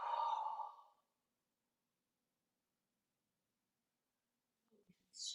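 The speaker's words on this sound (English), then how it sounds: "Just take a big breath in and let it out." A single deep exhale during a relaxed yoga session, soft and close for about a second, followed by near silence and then a faint inhale and small rustle at the end.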